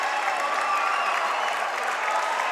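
A college basketball crowd at a men's tournament semifinal roars and applauds after a buzzer-beating dunk, a dense, sustained wash of cheering and clapping filling the gym.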